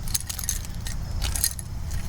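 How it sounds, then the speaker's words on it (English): Several sets of keys for a 2018 Ford Explorer Police Interceptor jangle and clink in bright, irregular bursts, close by, over a low rumble of the vehicle. "We got 4 sets of keys,"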